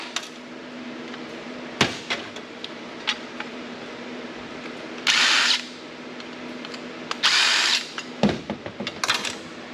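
Power drill spinning screws out of an older Dell Dimension desktop PC in two short bursts of whirring, between scattered clicks and clanks of metal parts being handled at close range.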